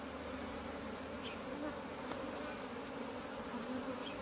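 Honeybees hum in a dense, steady swarm drone during a HiveIQ beehive inspection, with occasional individual bees buzzing past close by against the constant background hum.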